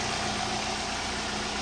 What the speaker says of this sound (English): So the engine is idling much better now.